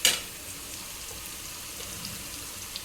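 Chillies and tomatoes fry in a pan, giving a soft, even sizzle with a sharp clink of a utensil at the start and a faint tap near the end.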